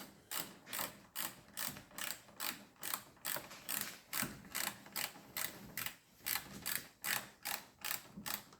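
A 10mm socket ratchet loosens the headlight screws on a Kia Rio, giving about fifteen quick, even clicking strokes in a steady rhythm, close and clear with no talking.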